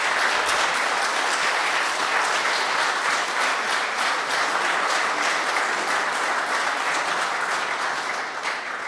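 Dense, sustained applause fills a presidential seminar hall, loud and even throughout, tapering slightly toward the end.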